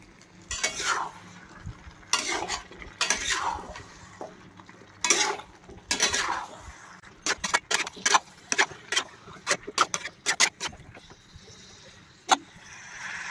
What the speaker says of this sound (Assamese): এতিয়া ধুনীয়াকৈ লাৰি দিওঁ